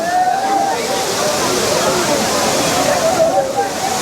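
Courtallam's main waterfall pours in a steady, loud, broadband roar of crashing water, continuous throughout with no breaks, a dense wash of spray and splashing close by.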